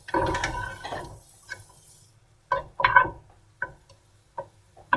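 Dryad's saddle mushrooms dropped into a pan with butter, giving a burst of clatter and sizzle up front, then a string of sharp, separate clicks and taps as they are moved and stirred, close by with no talk.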